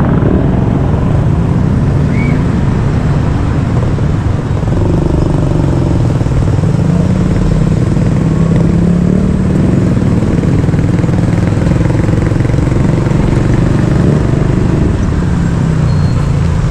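A motorcycle engine droning steadily and loudly throughout, mixed with surrounding road traffic, with a faint rising and falling pitch as it rides along; no voices are heard.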